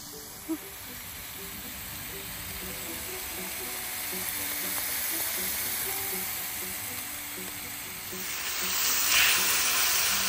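Food sizzles and hisses steadily on an open outdoor cooking setup at a fall campsite in a state park, a continuous frying crackle with faint background sounds and a brief louder burst near the end.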